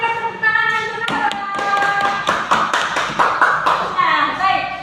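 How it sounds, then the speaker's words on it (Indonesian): Classroom clapping for a student named Nora after her talk on Sumpah Pemuda values, a scattered patter of hand claps and taps from children nearby, mixed with faint chatter and shuffling. "Berikan tepuk tangan untuk Nora"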